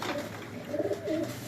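Pigeons cooing softly in a few low, rolling calls over faint background noise, at moderate distance.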